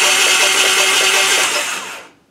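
A 1994 Harley-Davidson FLHTCU engine turns over out of gear for about two seconds, a close, loud mechanical whirring churn that cuts off abruptly, with no talk.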